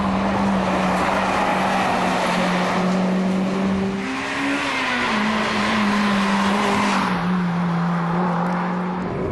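A Honda Integra Type R with a 2-litre VTEC engine screams at high revs, its tone climbing and shifting as it drives past, loud and close with no voices.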